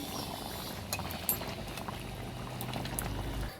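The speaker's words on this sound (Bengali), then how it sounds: "ভেজে রাখা মাছগুলো এবার দিয়ে দেবো তরকারিটা ফোটানোর জন্যে" Fried katla fish pieces added to a raw-tomato fish curry bubbling in a wok, giving a steady close bubbling and hiss with a brief soft splash.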